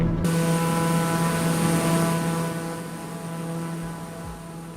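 Black Square TBM 850 turboprop cruising in Microsoft Flight Simulator 2024, a steady droning engine hum with a strong low tone and a few faint tonal layers, continuous and even in loudness with a slight dip partway through.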